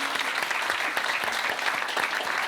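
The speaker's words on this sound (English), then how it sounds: "Please join me in applauding Loretta and her newly found freedom" Audience applause for Loretta Mester at an economy and monetary policy talk, steady dense clapping from a sizeable crowd filling the whole stretch at even loudness.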